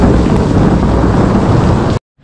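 Heavy downpour drumming steadily and loudly on a village wedding setting in Pakistan, a dense continuous roar with no separate thunder crack, cutting off abruptly near the end.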